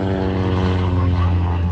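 A propeller aerobatic airplane flies at an air show flying circus in Bealeton, Virginia, its engine holding a loud, steady droning hum with strong even harmonics, close and continuous without talk.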